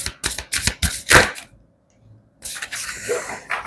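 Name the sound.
shuffling tarot cards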